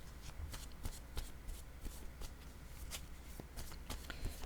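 Tarot cards are shuffled and drawn by hand up close, producing quiet, continuous riffling and soft flicking slaps with a few sharper card snaps, faint and steady throughout.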